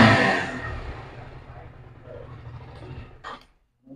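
Motorcycle engine revved in a second-hand bike showroom, a loud burst at the start that fades over a few seconds, followed by a short sharp noise and brief silence.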